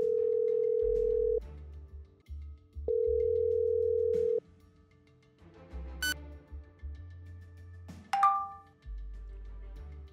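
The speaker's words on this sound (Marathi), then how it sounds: "तपस्याने तिचा मोबाईल काढला आणि त्याला फोन लावला." A mobile phone call rings out with repeated steady tones separated by pauses, joined by a brief chime and a rising electronic ding near the end, all fairly clean with low background hum.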